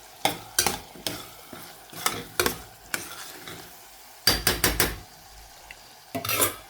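Masala frying in oil for a tuvar papdi curry, with a spoon scraping and clanking against the pan in irregular strokes over a faint background sizzle, close and loud.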